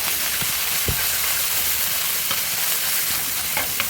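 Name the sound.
garlic and chili curry paste frying in a pan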